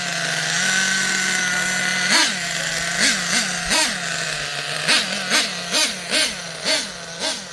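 The Ofna Twin Titan nitro RC car, its twin engines set rich on the bottom end, holds a loud idle, then rises in short repeated throttle blips that rev and fall back.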